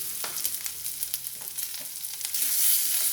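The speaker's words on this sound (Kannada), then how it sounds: "ಫ್ರೈ ಮಾಡ್ಕೊಳ್ಳೋಣ." Green chilies frying in hot oil in a pan, giving a steady close sizzle with faint crackles throughout, rising slightly louder near the end; no voices.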